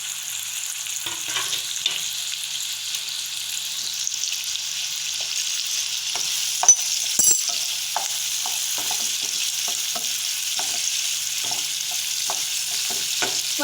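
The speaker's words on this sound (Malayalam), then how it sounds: "നമുക്ക് ഇതിൽ കുറച്ച് സവാള ഇട്ട് കൊടുക്കാം. ഉള്ളി, പച്ചമുളക്," Onions and green chilies sauté in hot oil, giving a soft steady sizzle with scattered light clicks of stirring, close and alone without talk.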